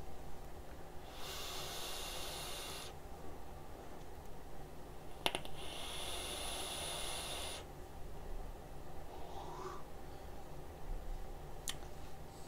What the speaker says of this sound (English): Let's see how the Limitless RDTA Plus vapes.